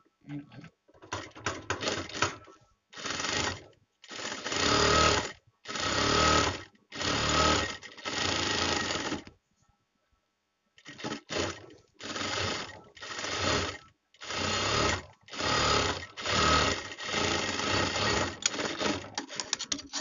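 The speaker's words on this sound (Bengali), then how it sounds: "এবার আমরা এখানে চাপ সেলাই দেবো" Sewing machine top-stitching blouse fabric in a run of repeated bursts, each whirring stretch lasting about a second with brief pauses and one longer gap midway, loud and close with no talk.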